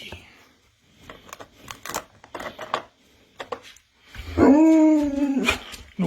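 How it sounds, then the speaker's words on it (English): Dogs waiting for chicken jerky treats whimper and whine, ending in a loud rising howl-like whine near the end, with a person talking quietly beforehand. "bet you didn't think you're gonna see dogs get treats this evening"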